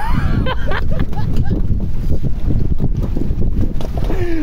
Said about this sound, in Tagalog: Andyan na yung bangka